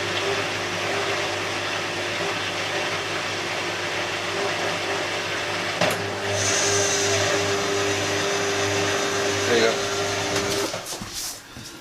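An empty washing machine drum with worn motor brushes spins unevenly, a steady mechanical hum with a brief rising whine and scattered crackles before winding down near the end; a person talks over it.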